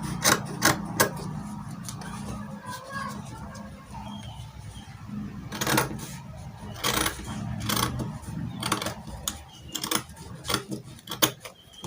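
Scissors cut through fabric for the shoulder slope of a kimono jacket, a run of close, crisp snips and rasping slides along the cloth, with light handling noise between cuts.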